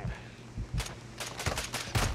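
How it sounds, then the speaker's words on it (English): Bursts of muffled, silenced gunfire in the video game Modern Warfare 2, in a team deathmatch, crackle in quick clusters against steady background noise, sounding somewhat distant. "I knew I was hearing some gunfire."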